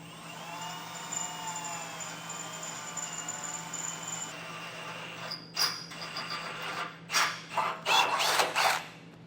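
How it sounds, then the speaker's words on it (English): A drill bit bores out spot welds on a 2017 Ford Explorer, a steady whining motor hum broken near the end by several loud grinding bursts as the bit bites through metal, close and with no talk. "I'm going to drill these spot welds out first before we mess with the bolts"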